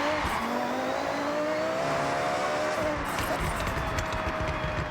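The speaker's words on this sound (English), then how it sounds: "when you lift off the throttle and you get the crackles in the exhaust" A loud racing car roars steadily through a game drive in Forza Horizon, engine note shifting as it revs, with tire squeal and exhaust crackle over continuous road noise.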